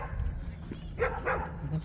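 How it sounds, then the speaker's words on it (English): A dog barks outdoors among neighbours at a converted school-bus (skoolie) gathering: two or three short, nearby barks over a steady background murmur. "There's a dog right there saying hello."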